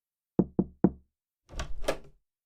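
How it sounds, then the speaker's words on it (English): Knocking on a door as a radio drama sound effect: three sharp, evenly spaced raps up close, then a brief pause and two rougher, louder bursts of thumping, all against dead silence. "We'd better knock on the door."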